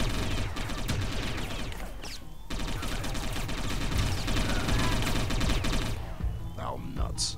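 Rapid gunfire rattles in the video game Satellite Reign, with dense overlapping bursts and impacts running almost continuously before dropping off near the end.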